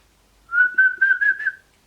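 A single person whistles a short, steady, slightly rising tune of several connected notes, close and clear, with silence before and after.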